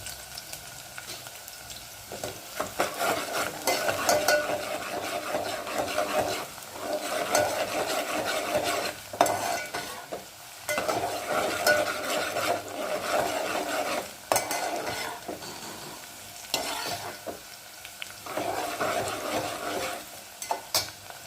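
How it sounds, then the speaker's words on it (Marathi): Onions frying in a pan for chicken biryani until browned, a steady sizzle broken by repeated scraping and stirring strokes coming in bursts, close and fairly loud. "कांदे चांगले ब्राऊन येईपर्यंत तळून घेऊया"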